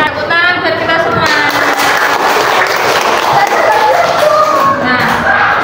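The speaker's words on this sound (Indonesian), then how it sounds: "Tepuk tangan buat kita semua" Classroom applause from a group of young students, a loud continuous burst of clapping mixed with excited voices and chatter, close and sustained throughout.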